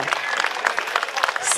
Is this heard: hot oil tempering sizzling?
no